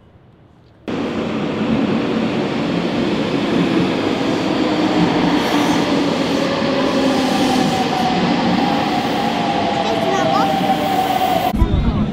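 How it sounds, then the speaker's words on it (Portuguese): Steady rumble of a train riding through Nagoya, a continuous loud rolling drone heard from inside the carriage, starting abruptly and cutting off near the end. "Hoje nós estamos voltando de trem."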